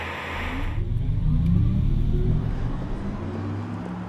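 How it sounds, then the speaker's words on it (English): Audi R8 e-tron electric sports car passing on the road with its synthetic driving sound, a hissing whoosh that fades into a steady low whirring rumble, no talking. "This is what the Audi R8 e-tron sounds like on the road."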